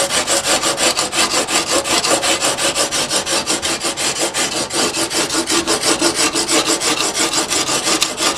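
Steel chisel bevel being sharpened on a sharpening stone, a loud, steady back-and-forth rasping stroke repeating rapidly and evenly throughout, close up with no talking.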